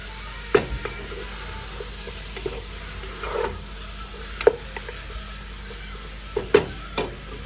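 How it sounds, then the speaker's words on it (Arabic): Chicken cooking in a pan with onion and tomato for a Palestinian stuffed dish, a low steady sizzle broken by several sharp scraping stirs and clinks of a utensil against the pan, with no talking. "بحط البندورة البصل والبندورة عشان هيك الدجاج يشرب شوي من البصل والبندورة"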